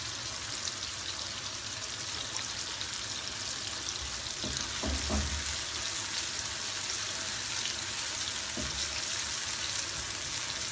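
Chicken and onion sauté in hot oil with a steady, fairly quiet sizzle and crackle throughout, broken by a few soft clinks of utensils.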